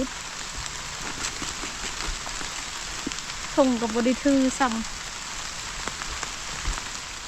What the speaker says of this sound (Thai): ฝนเริ่มมาแล้ว